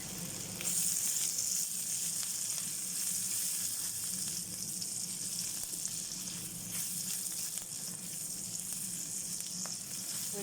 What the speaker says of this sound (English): my wok's very hot now. So now I'm going to add my fresh garlic.